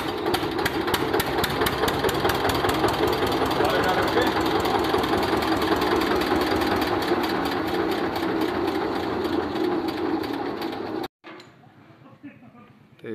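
An old 1985 Eicher tractor engine starts on its self-starter and runs with a loud, rapid diesel knock that cuts off abruptly near the end, leaving quieter background sound.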